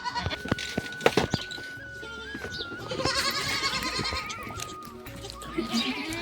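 Goats bleat repeatedly at close range in a village goat pen, several overlapping calls rising and falling over a busy farmyard background, with occasional knocks.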